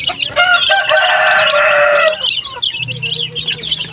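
Pet chicks of a third batch at feeding time, with loud close clucking and bird calls, a long bright call at the start followed by scattered chirps and clucks.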